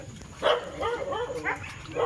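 Dogs in hunting-agility training barking and yelping in a run of short, strained bursts, fairly close and moderately loud, with no talk over them.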